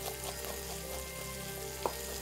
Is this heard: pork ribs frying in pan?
yes